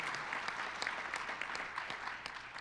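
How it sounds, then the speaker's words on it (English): Audience applause at a small business development center opening on a campus, faint but steady clapping from a crowd, sustained for a few seconds with scattered distinct claps. "Now, we deserve a round of applause."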